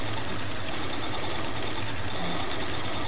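A lathe plunging a piston ring groove to depth in a steam engine piston, giving a steady low mechanical hum with broadband machining hiss, continuous and fairly loud for about three seconds with no talk.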